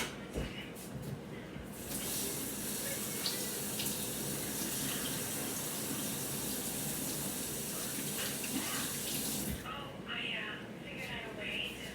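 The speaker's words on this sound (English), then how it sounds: "Let me wash my hands." Running kitchen tap water while hands are washed, a steady close hiss of flowing water with splashing, lasting about eight seconds before the tap shuts off, with quiet household sounds around it.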